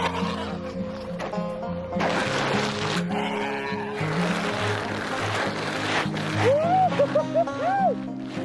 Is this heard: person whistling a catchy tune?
no